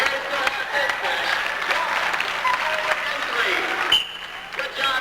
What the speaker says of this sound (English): A nice round of applause for Barry and Dean